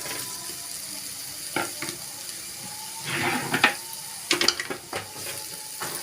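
Vegetable masala with soaked meal maker and green chillies sizzles in a pan as it is stirred, soft frying hiss with a few scraping stirs, fairly faint and without talk.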